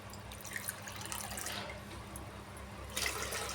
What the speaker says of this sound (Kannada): ಅಕ್ಕಿ ಹಿಟ್ಟಿಗೆ 2 ಬೌಲಷ್ಟು ನೀರು ಸೇರಿಸ್ಕೊಳ್ಳೋಣ.